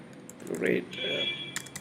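Computer keyboard keys being typed while entering an Ionic CLI command, a few light clicks near the end, following a voice speaking briefly.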